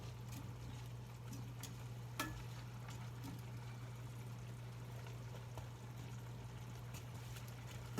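Sweet potatoes and pears cook down in a pan with a steady, close, low sizzle and faint crackles, alone with no talk.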